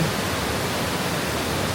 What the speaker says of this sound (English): Well, Tanya, we have arrived at what is the largest or tallest waterfall in Tahiti.